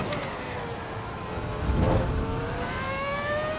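An F1 car in the racing game Assetto Corsa EVO at Mount Panorama runs at full throttle, a steady high engine whine that rises smoothly in pitch as it accelerates, with a brief swell near the middle.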